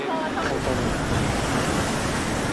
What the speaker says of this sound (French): Écoute le son de la mer. Écoute le son des vagues.